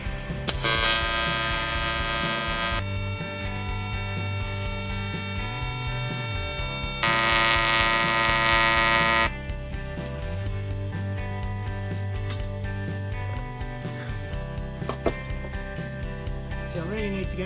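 TIG welder running during butt-weld practice on a paddock stand, a steady close electrical hum and buzz that changes in intensity in long stretches as the heat is adjusted, with no talking.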